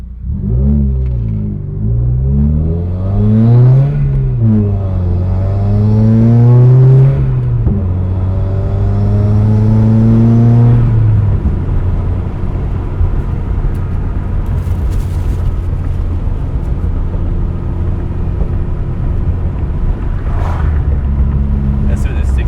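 A 2015 Subaru WRX with a Grimmspeed J-pipe drives along, its engine note climbing through several gear pulls with rising harmonics before settling into a steadier, quieter drone; someone talks over it at times.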